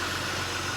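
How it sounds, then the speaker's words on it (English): A Triumph 2500TC engine idles steadily on warm-up choke at close range, a low, even rumble with no change in pace. "I've got the engine sitting here idling."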